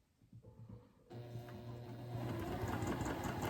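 Home sewing machine stitching a seam across the top of a fabric craft project, starting softly then running steadily with a rapid mechanical whir and hum that grows louder and continues unbroken.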